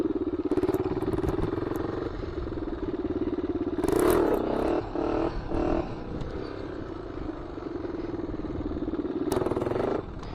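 A Honda 400ex ATV engine drones and revs through wheelies on new tires, a steady buzzing idle broken by a few sharp throttle blips midway and another near the end, fairly close.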